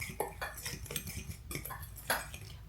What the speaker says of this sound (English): So we're going to go ahead and mix our dry ingredients